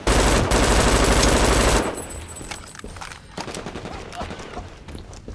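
Sustained loud machine gun fire in the shooter Brink, a dense rapid burst lasting nearly two seconds before cutting off, followed by scattered quieter shots and combat noise.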